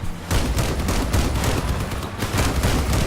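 Rapid, dense bursts of vehicle-mounted weapons fire in the Crossout beta, a loud, continuous crackling barrage with booming low end that runs almost unbroken through the clip.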